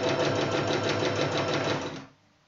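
A sewing machine zigzag-stitches the fabric of a cushion cover with a loud, close, rapid rhythmic whir that stops abruptly near the end.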